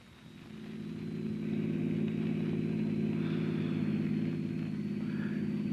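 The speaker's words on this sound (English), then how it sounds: "There's Miss Miller's car, Chief." A car engine in a radio drama sound effect swells in as the vehicle approaches, then settles into a steady, droning hum that stays loud and close, with no voices over it.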